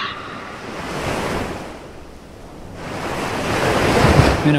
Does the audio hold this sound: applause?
no